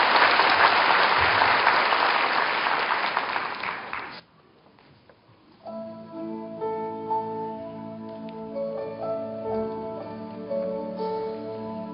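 A university entrance ceremony audience applauds as a student singer is welcomed, loud dense clapping that stops abruptly after about four seconds, followed by soft piano-like music with sustained tones.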